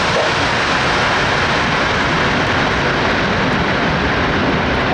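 An Airbus A380 with Rolls-Royce Trent engines comes in to land at an air show, a steady, loud, broadband jet roar that holds throughout without a break.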